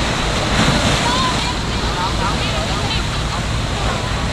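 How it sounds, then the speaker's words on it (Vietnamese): Rough sea surf breaks and washes steadily along the shore at Nhơn Hải beach, a loud, continuous roar mixed with wind buffeting the microphone. "Cẩn thận còn sóng đánh á"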